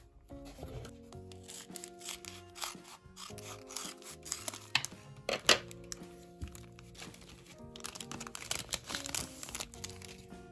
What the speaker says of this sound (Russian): Дальше открываем вот этот пакетик.